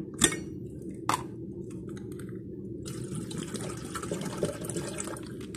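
Tap water runs to be heated: after a couple of sharp clicks, a steady close hiss of flowing water starts and continues to the end over a low room hum.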